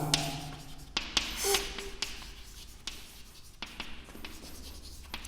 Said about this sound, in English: So here we'll write the Abhas present age